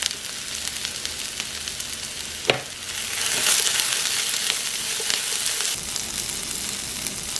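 Potatoes and onion are stir-fried in a pan, with a steady hiss of frying, a sharp clack early on, then a louder surge of sizzling and intermittent scraping stirs.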